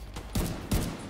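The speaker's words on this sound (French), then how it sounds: "J'aime que t'entends mon gun dans toute la place, là." A player's gun fires in The Division 2 in two loud, close bursts of rapid shots, separated by a short gap, with background game ambience.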